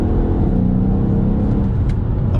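Mercedes E63 AMG V8 with 700 bhp accelerating hard: a continuous, loud, deep engine drone with a rising tone, heard from inside the car.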